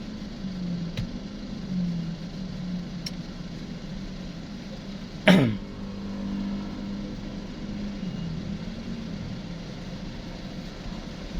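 A car driving along a road, with a steady low engine and tire drone throughout and one brief sharp bump partway through.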